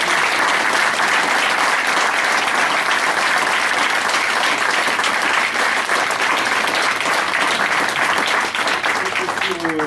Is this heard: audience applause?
yes